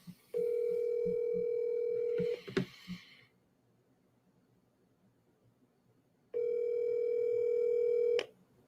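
A phone call rings out in two long steady ringback tones with a pause between them. A short clatter follows the first tone. The call is then forwarded to voicemail, and no one talks over it.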